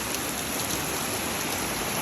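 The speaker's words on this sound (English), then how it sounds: "It's raining a little bit. We've been caught in a rainstorm." Heavy rain pours down during a rainstorm on a trip in the Philippines, a loud, even, close roar of drops on surfaces that never lets up, with no voices.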